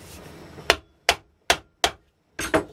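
A hole is being popped in the casing of a 7 inch double petal ball shell, heard as five sharp, close, hard knocks or hammer taps at roughly even intervals, the last one doubled, with nothing else around them.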